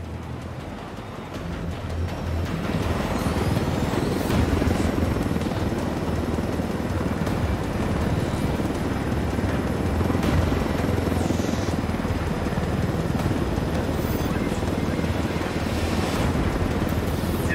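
A helicopter in a military shooter game flies with a loud, steady rotor roar and wind rush that swells in the first couple of seconds and then holds constant.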